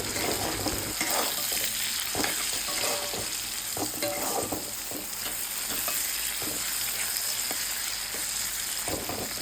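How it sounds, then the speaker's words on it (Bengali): Boiled chow mein noodle masala with turmeric and salt frying in a pan, a soft continuous sizzle broken by repeated scraping and stirring strokes of a spatula. "এরপরে ভালো করে ভেজে নিয়েছিলাম"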